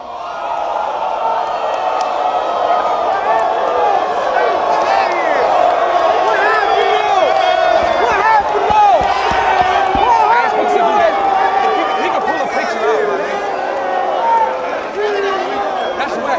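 A rap battle crowd roars with steady, loud cheering, shouting and whoops for the whole stretch, voices layered densely under and around talk.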